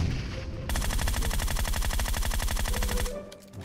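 Rapid automatic gunfire from a buggy in PUBG Mobile rattles in a steady burst of about two and a half seconds, loud and close, cutting off abruptly and followed by quieter scattered shots.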